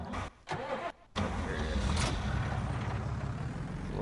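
A flatbed truck engine drives steadily in a farming video game, a loud continuous mid-low drone that cuts out briefly twice near the start before settling into a sustained run.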